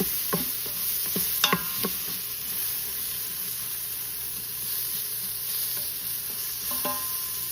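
Rice browning in oil in a pan for Mexican rice, a soft steady sizzle with a few sharp stirring clicks early on, fairly quiet.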